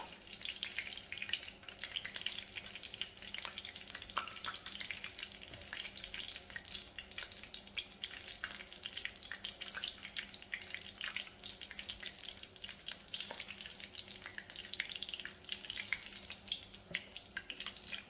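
Getas dough balls fry in hot oil, a continuous, faint crackling sizzle with soft bubbling that stays steady throughout.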